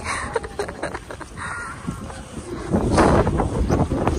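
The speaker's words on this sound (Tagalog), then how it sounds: "Ay, hangin!" Strong winter wind gusting outdoors in the snow, rushing and buffeting the microphone in uneven waves that swell louder toward the end, with faint voices and movement underneath.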